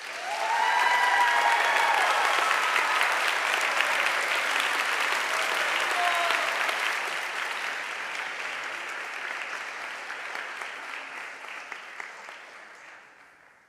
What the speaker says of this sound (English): So you guys can definitely clap when I call their name.